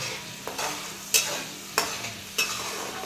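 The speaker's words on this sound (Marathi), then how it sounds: "छान वाटण टाकून घेतलं ह्याच्यात परतून घेतो" Spiced masala paste stirred and fried in a pan for a Maharashtrian masvadi curry: four distinct scraping strokes of the spoon rise over a steady low sizzle, close and alone without any talking.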